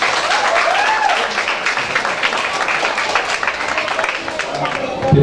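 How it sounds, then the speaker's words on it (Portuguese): Guests applaud at a first-birthday party, a steady wash of clapping sustained for about five seconds with voices and a whistle-like tone mixed in. "Uma salva de palmas, gente."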